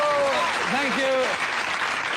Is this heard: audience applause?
yes